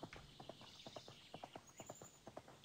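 Horse hooves clip-clop in the video game Horse World, a steady rhythmic gallop of about twenty distinct, fairly close footfalls, with a brief bright sound at the very end.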